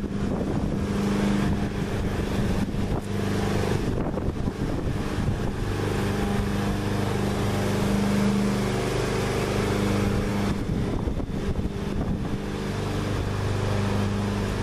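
Outdoor wind buffets a smartphone held up into the breeze, producing a steady, loud, rumbling roar with gusty swells throughout.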